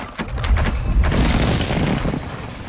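A close air strike lands in Call of Duty: Modern Warfare II: heavy booms hit in quick succession early on, followed by a rumbling wash of explosions and rattling gunfire that slowly fades.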